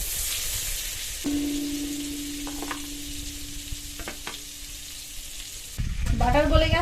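Butter sizzles in a kadai for Lucknow-style chicken tawa pulao, a close steady frying hiss with a faint hum, then a louder stirring scrape toward the end.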